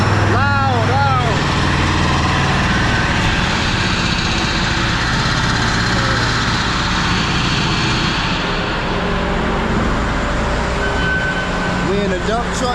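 Dump truck engine heard from inside the cab, a loud, steady drone with a rising whine near the start and end, while someone talks over it throughout.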